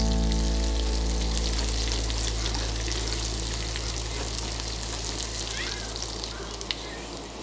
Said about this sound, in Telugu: ఇప్పుడు సన్నగా చాప్ చేసి పెట్టుకున్న ఉల్లిపాయ ముక్కలు బాగా ఫ్రై చేసేసుకోవాలి.